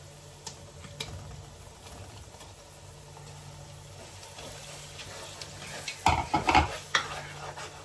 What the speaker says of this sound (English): So I want to go in with the blended tomato.